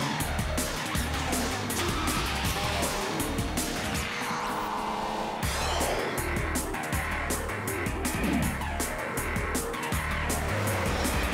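On the 2 Fast 2 Furious film set, a car driven by Paul Walker roars past with tires skidding and squealing, a loud, continuous blend of engine and rubber noise that briefly drops off midway before resuming.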